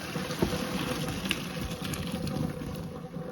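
Boiled red-skinned potatoes and their water poured into a colander in a kitchen sink, giving a continuous close rushing splash and gurgle with small thumps, steady and moderately loud for a few seconds.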